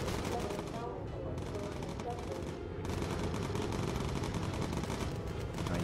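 Enemy gunfire strikes a bomber in Bomber Crew, dense rattling bursts of rapid shots that carry on without pause, with brief gaps in the hiss.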